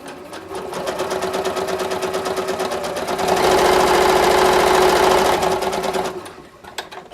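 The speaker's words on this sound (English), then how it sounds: "I am gonna sew it together with a 3/8 inch seam allowance, just from top to bottom there" Sewing machine stitching cotton quilting fabric with a 3/8 inch seam for a zippered can organizer, a steady close mechanical whir with rapid needle chatter that speeds up and grows louder midway before slowing to a stop.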